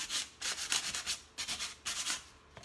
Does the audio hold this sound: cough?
no